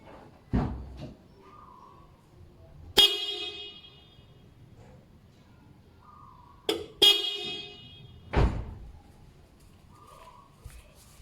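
Two loud car horn blasts from a Bosch Evolution fanfare horn, each a brassy multi-tone fanfare, separated by a few seconds, with a few sharp knocks and clunks around them.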